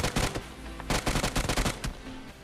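Loud bursts of automatic gunfire in the mobile battle-royale game Free Fire, two rapid volleys of rattling shots separated by a short gap, then a few scattered single shots, with no talking.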